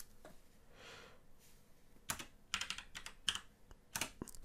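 Quiet bursts of keystrokes on a computer keyboard as numbers are typed in, a short run of soft clicks after a brief pause.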